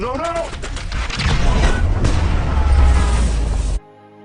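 A cannon bursting at its firing position instead of firing: a dense, rumbling blast with crackling bursts and a sustained low roar, mixed with voices before cutting off abruptly.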